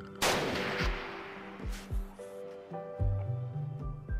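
Gunfire from a precision turret in the video game RimWorld: a sharp blast followed by several more shots at irregular intervals over low synthetic tones, with no talking.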